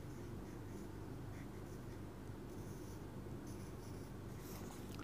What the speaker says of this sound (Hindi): मैं लिखती हूँ देश